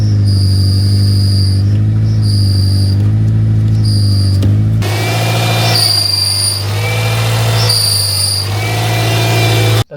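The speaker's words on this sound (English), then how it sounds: "Listen to it as I step on the clutch pedal." Car engine running with a whining, whirring clutch noise from a failed bearing or clutch, loud and close, with high tones that pulse on and off in repeated bursts as the clutch pedal is pressed.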